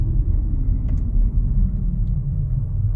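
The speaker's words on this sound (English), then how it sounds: "Finally coming up to a place where I think I can give it full throttle." A 2010 Lincoln MKS accelerates at full throttle, heard from inside the cabin as a loud, steady low rumble of engine and road noise with no talking.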